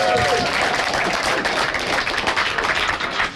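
A live audience at the NSL Invitational Cup Grand Final cheers and claps in a dense, steady roar of applause that stays loud for the whole stretch, with faint voices mixed in.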